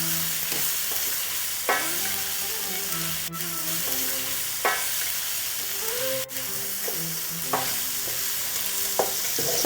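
Spices with a pinch of turmeric fry over low heat in a pan for a chicken breyani, giving a steady close sizzle, with a few distinct scrapes and knocks of stirring spaced through it.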